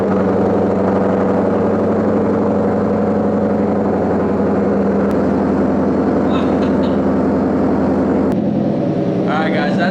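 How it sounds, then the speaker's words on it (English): A car's extremely loud exhaust roars steadily at close range, the engine droning continuously with a couple of sharp changes in pitch, no voices over it. "I'm gonna be doing a new exhaust as well because this is extremely loud."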